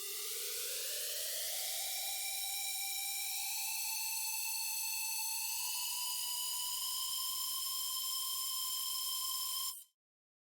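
A solo synth tone with glide switched on, rising in pitch over the first few seconds and then holding a steady, bright, harmonic-rich note for about ten seconds before cutting off abruptly.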